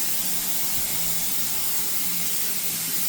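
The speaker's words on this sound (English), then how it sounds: "this is some cooking spray" Cooking spray hisses from a can in one steady, continuous burst, close and fairly loud, with no talking.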